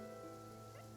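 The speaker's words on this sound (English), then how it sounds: "It's raining." Rain falling in Fontaine in Genshin Impact, a steady soft wash with sustained tonal game ambience running beneath it and no voices.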